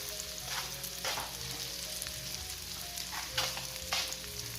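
Butter, onion and garlic fry in a pan for keto oysters Rockefeller, giving a steady close sizzle with soft crackles and occasional stirring scrapes and no voices.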